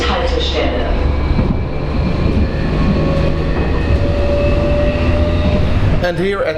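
A Hamburg metro train at the end of the line, with a loud low rumble and whine of the railcar, steady motor tones and rattling, ending in a sharp squeal or clatter near the close.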